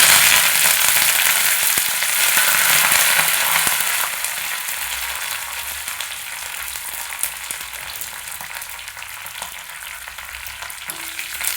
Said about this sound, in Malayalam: വറ്റൽമുളക് മൂത്ത് വരുമ്പോൾ കറിവേപ്പില ചേർത്ത് കൊടുക്കുക.